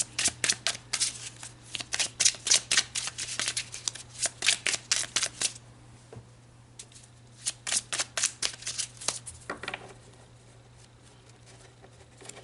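Tarot cards are shuffled repeatedly in rapid riffling bursts, close and crisp, with a brief pause in the middle before another run of shuffling; no one speaks.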